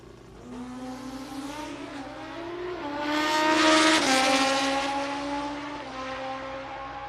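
Racing motorcycles launch side by side down a drag strip at a Midwest Sportsman event, their engines screaming as they rise through the gears in a long, rising and falling roar that peaks midway, then fades into the distance.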